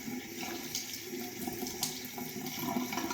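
Hot tap water runs steadily from a faucet into a bathroom sink for face washing, a soft continuous splashing stream heard close up with no talk.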